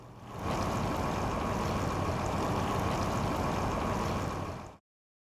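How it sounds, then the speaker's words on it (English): Firefighting foam blanket on burning ethanol, a broad, steady hissing roar that holds constant for several seconds and then cuts off abruptly, with no voices. "Notice how quickly the foam blanket breaks down, drips out, and if you listen closely, you can actually hear it boiling."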